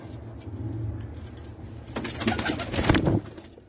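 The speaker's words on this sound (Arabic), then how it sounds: "هاي الطيور" Pigeons, red birds kept for sale, coo softly in low rhythmic calls close by, joined by a louder burst of wing flutter and cooing near the end.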